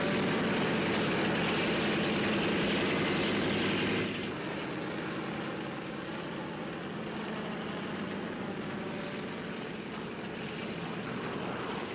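Propeller airliner engines running before takeoff, a loud steady droning roar that drops to a lower, smoother rumble after a few seconds and continues evenly without voices.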